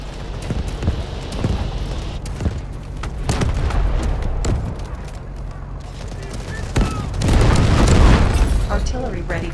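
Artillery shells from a barrage in Delta Force land as a series of deep booms with sharp cracks between them, with some irregular, some clustered, and the loudest rumble building near the end.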